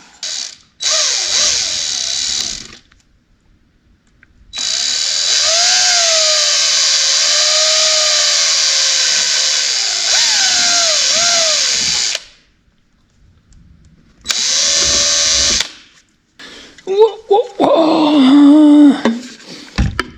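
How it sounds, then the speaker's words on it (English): A power drill whirs in loud, close bursts drilling mounting holes on a 2005 American Eagle RV, a short run, a long sustained spin and another short one, followed by ratcheting clicks. "then we'll go make our drill holes and mount this sucker"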